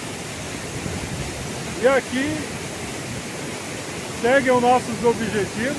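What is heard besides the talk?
Cachoeira da Torre waterfall in the Atlantic Forest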